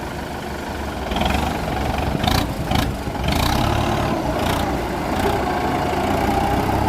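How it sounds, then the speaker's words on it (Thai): A tractor engine runs at a quiet, soft idle with a steady low rumble, joined by a few brief clunks and hisses. "สตาร์ทแบบนิ่มๆเลยสียงเสียงเงียบดีมากเลยครับคันนี้"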